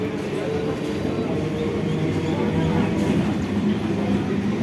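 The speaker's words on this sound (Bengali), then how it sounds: "হাসনাবাদ লোকাল ছেড়ে যাচ্ছে।" A Hasnabad local train pulls out of a platform with a continuous low rumble and rolling wheel noise, steady and fairly loud, while voices murmur faintly in the busy station.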